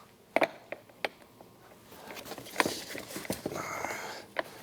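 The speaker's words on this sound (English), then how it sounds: "Got a wrench slightly larger than what it required. Tighten that up." A wrench tightens a bolt while installing a tether on a Polaris RMK AXYS snowmobile, giving a few quiet metallic clicks and ratchety scrapes spread across a brief stretch of close work with background rustle.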